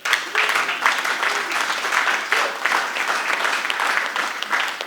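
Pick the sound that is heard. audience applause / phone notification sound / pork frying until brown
audience applause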